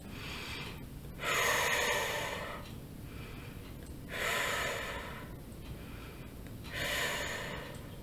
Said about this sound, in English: So just hold your hands out and take 3 deep breaths.